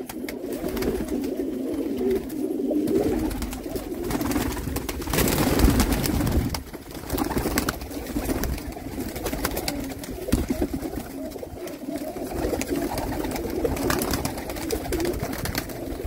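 Pigeons kept for sale by a breeder in Jammu coo steadily over a constant low background hum, the soft throaty calls continuing throughout with no talk.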